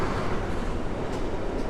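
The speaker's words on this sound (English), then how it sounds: "Wow, this is a long freight train." A long freight train rolls through a Swiss railway station, giving a steady, dense rumble and rattle of wagons close by with no break over the short stretch.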